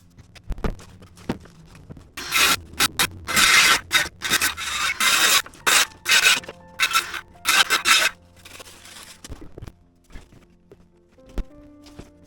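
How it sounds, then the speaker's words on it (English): Handsaw making crooked cuts through headliner material for a 1932 Studebaker interior, heard as bursts of close, loud rasping strokes in an uneven rhythm, with quieter pauses between runs and no talking. "Now we're going to try doing some crooked saw cuts."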